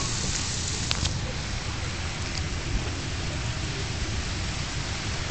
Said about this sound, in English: 5 minutes worth of mega rain, and there's probably about an inch's worth of water.